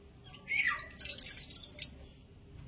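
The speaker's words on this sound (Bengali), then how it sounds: "বাটির মধ্যে মিডিয়াম সাইজের একটা বাটি মেপে নিয়ে নিচ্ছি 1 বাটি কুসুম গরম জল" Lukewarm water poured into a medium-sized bowl while making paratha dough: a brief, soft splashing trickle, faint and close, fading into quiet dripping.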